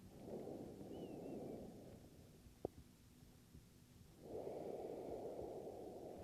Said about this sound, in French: Une longue respiration.